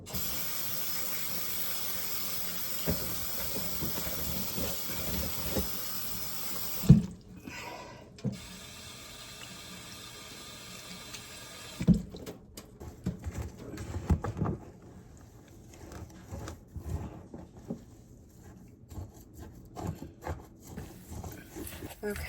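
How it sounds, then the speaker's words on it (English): Water runs from a tap or hose onto soil in a cheap homemade garden box, a soft steady trickle and splash with a few louder bumps and clatters, quiet overall. "I'm just getting the soil moistened up."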